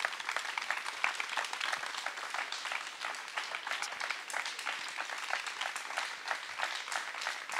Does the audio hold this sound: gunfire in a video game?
no